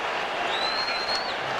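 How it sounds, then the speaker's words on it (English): Crowd at a Bruins home hockey game against Hartford cheering and applauding in a broad continuous roar, with an arena whistle-like tone sounding across the middle. "Up went the cheer from the crowd."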